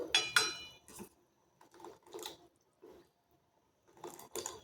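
A spoon stirring and mixing gram-flour chutney with fresh green coriander in a pot, heard as several short, soft wet squishes and scrapes separated by quiet pauses, close up with no talk.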